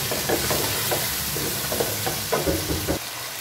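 Aloo keema fries in a pan with salt, chilli, turmeric and ground coriander, giving a continuous close sizzle with rhythmic bursts of stirring scrapes and no talking.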